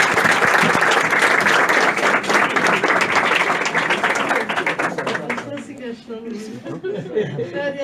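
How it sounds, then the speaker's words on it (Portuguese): A church congregation applauds together, dense and loud clapping mixed with crowd chatter, then thinning into scattered claps and murmuring voices toward the end. "Aplauda o Senhor"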